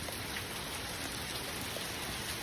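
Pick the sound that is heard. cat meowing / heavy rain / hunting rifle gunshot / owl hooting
heavy rain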